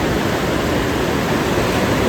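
Sea waves breaking on Ganpatipule beach, a loud, continuous broadband roar of surf washing in close by with no pause or voices.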